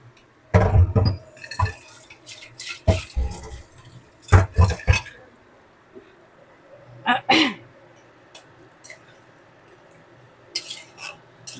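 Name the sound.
pouring boiled chickpea water into the pan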